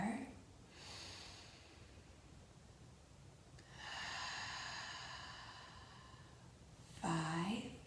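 Breath sounds during a children's yoga session, with a soft exhale near the start, a longer drawn breath in the middle and a sharper, louder snort-like breath at the end, all close and fairly quiet.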